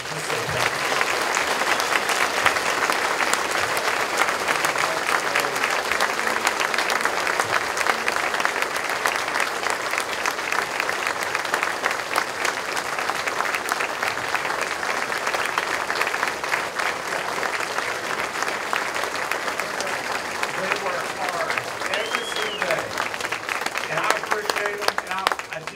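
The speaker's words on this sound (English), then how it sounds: "Let's give them a big round of applause." Sustained audience applause at an annual meeting, a dense, even wash of many hands clapping that holds steady and loud for the whole stretch, with faint voices underneath.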